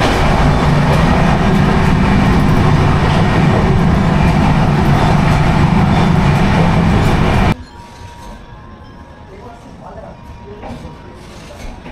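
The 12343 Darjeeling Mail from Kolkata to NJP rolls along loudly, its wheels rumbling and clattering for several seconds before the noise drops abruptly to a much quieter, muffled running sound.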